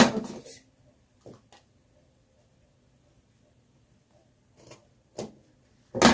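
A few separate snips of scissors cutting fabric for a kimono with side drawstrings, close and moderately loud, with long quiet gaps between them.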